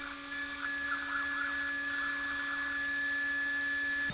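A CNC mill cuts text labels into a tiny PCB, its spindle giving a steady high-pitched whine with a faint grinding of the cutter, close up and uninterrupted.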